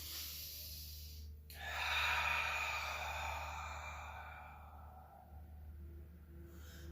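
A slow, deep cleansing breath during a seated chair yoga session, one long airy exhale up close that swells and then fades against quiet room hum.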